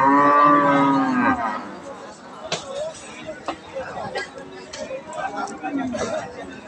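A young dairy cow at a rural cattle market gives one long, loud, close moo, then a crowd of people talk and chatter around her.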